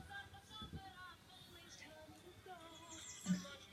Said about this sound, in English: getting some good birds in